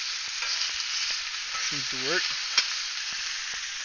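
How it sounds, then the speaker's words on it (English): Pistachio-crusted lamb chops sizzle in a hot pan with a steady broadband frying hiss throughout, while a person speaks briefly over it and a small clack sounds near the end. "Get a nice sizzle there."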